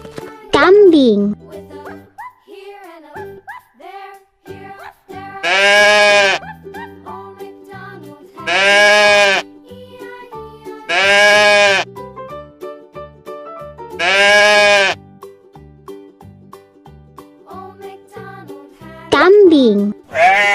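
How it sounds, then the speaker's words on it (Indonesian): Goat bleats sounding four times in evenly spaced, loud, quavering calls, between short stretches of a child-voiced narration and playful sound effects over light background music. "Kambing."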